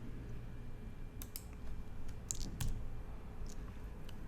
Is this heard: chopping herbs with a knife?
no